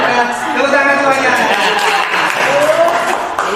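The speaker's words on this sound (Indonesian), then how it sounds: "Tepuk tangan semuanya." Audience members at a school workshop on positive school culture break into applause, a dense patter of clapping with voices talking and calling out over it.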